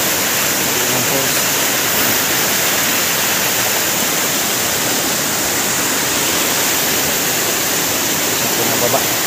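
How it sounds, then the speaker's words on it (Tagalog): Abungan Falls waterfall in Dingalan, Aurora, a loud, constant roar of falling water that fills the whole stretch with steady rushing noise. "Bagsakan ng tubig."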